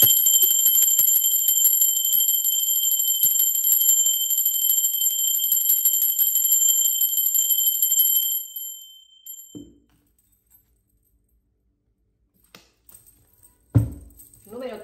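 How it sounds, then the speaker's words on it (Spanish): A bell rings with a sustained bright metallic ring, like an alarm or clock bell, for about eight seconds before cutting off, followed by near silence and a few soft thuds. "Ahora sí, va campana."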